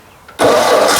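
An old engine, its choke just adjusted, catches abruptly after a brief cough and keeps running loud and steady close by, with no talk over it.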